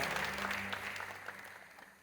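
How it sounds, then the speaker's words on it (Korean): Church congregation applauding during a Sunday worship service, a steady, fairly faint wash of clapping hands that gradually fades over two seconds with no talk. "여러분께 박수로 환영하십시다."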